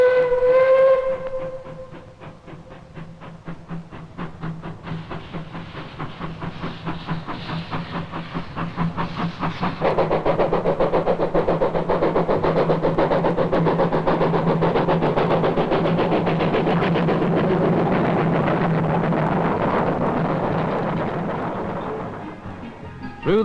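An old steam locomotive hauling karri timber from a 1914 mill opens with a whistle blast, then chuffs steadily and rhythmically as it works up steam, growing louder and fuller before fading slightly.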